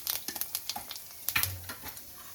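Whole cumin seeds, whole garam masala and bay leaf fry in hot oil, giving close, crackling sizzles with a quick run of sharp pops and spatters over a few seconds, with no talking.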